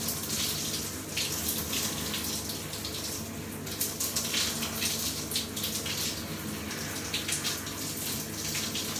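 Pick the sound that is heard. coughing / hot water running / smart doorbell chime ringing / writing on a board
hot water running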